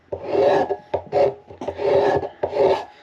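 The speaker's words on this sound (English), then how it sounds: "So, back to scraper. Just take my time." A cabinet scraper shaves the wooden neck of a 1937 Martin D18 acoustic guitar in four long rasping strokes with short pauses between them, close and distinct, with no talking.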